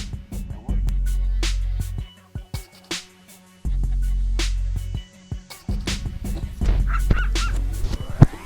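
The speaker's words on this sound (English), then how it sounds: "I had one coyote barking behind me" A coyote barks in short, sharp yips and barks in bursts, fairly close and loud against an otherwise quiet outdoor background during a hunt.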